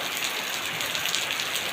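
Rain falls steadily in a dense, even hiss with no voices, a short unbroken stretch of downpour.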